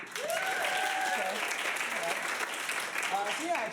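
Audience applause fills an improv comedy theater, a steady wash of clapping hands that runs loud and continuous through the whole stretch with no talk over it.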